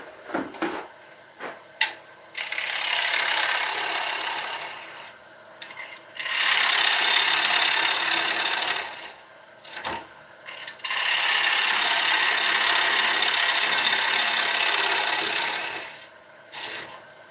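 Rimmed oak bowl being hollowed on a wood lathe: loud, close rasping cuts in three long passes separated by short pauses with a few knocks, no talk.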